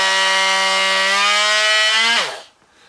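A corded-adapted Milwaukee M18 oscillating multi-tool buzzes loudly and steadily at a high rate, then winds down in pitch and falls quiet after about two seconds, leaving faint room noise.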